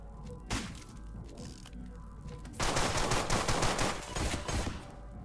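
Tommy gun fire in the video game Deadbolt: a single sharp shot, then a sustained rattling automatic burst in the second half, loud and close with no talking.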